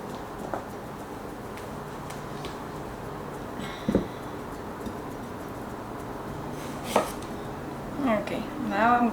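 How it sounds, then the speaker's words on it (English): Knife chopping carrots on the angle on a cutting board in a home kitchen, a few sparse, separate cuts with a faint steady background hum and no talking. "the carrots, but I'm going to cut them in the angle."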